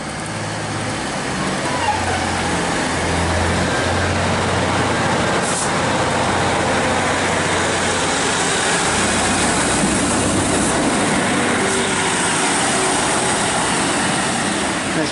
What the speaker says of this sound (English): 1558 East Midlands train service to Leicester